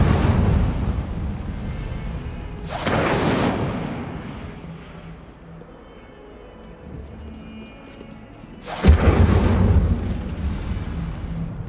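Incendio fire spells cast in Hogwarts Legacy, two loud whooshing blasts of flame several seconds apart, each roaring up suddenly and then dying into a low crackling rumble.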